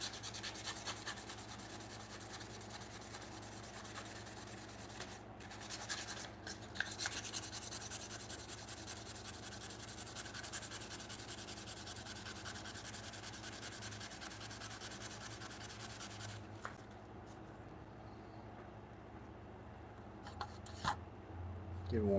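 Steady, quiet rubbing and light scraping on an antique hand plane being worked over with rust remover, a continuous close abrasive texture with a few brief louder strokes, no talking.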